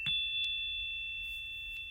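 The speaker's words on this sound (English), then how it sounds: "I'm going to have to tap these softly" Colored chimes tapped softly, giving a few bright ringing tones that sustain and decay; one clear strike at the start, then lighter taps, with no talk.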